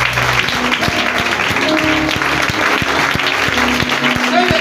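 A church congregation applauds and cheers for Jesus: dense, loud, continuous clapping fills the whole stretch, with voices mixed into the crowd.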